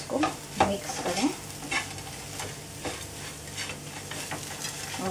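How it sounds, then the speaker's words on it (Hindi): Crispy onion potatoes stirred in a hot pan, with a steady sizzle and repeated scraping strokes of a spoon against the metal, loudest in the first second and then continuing evenly and close. "तो इस तरह से आप उसको मिक्स करें"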